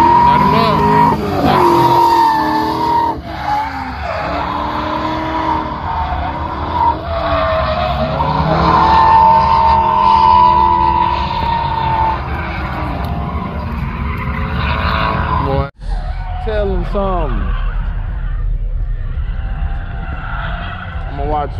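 A drifting car at Memphis International Raceway, loud engine roar with long screeching tire squeals rising and falling, close by, with people talking and shouting over the noise.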